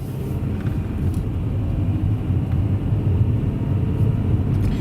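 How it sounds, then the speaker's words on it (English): A Toyota Corolla's 1ZZ engine hums steadily with low road rumble on a night drive, a constant droning noise without any voices. "the good old 1ZZ sounds perfect for a Corolla"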